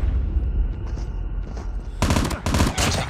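Automatic gunfire bursts in Call of Duty Mobile gulag 2v2 match; a low rumbling backdrop gives way to loud, dense rattling volleys in two or three close bursts near the end.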